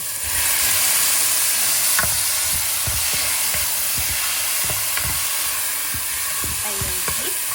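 Beef goes into a pan of frying monggo (mung beans) and sizzles in a steady, loud hiss, with occasional clinks of stirring and no voices.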